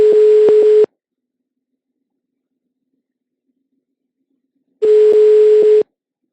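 Telephone line tones from a call being placed from a government office: a steady buzzing tone with pulsing clicks, heard twice for about a second each with silence between.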